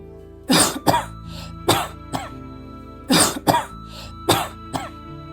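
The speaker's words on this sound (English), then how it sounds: "The old bunny coughed" Two bursts of harsh coughing from an old rabbit, each a rapid run of four hacking coughs, close and fairly loud, separated by a short pause.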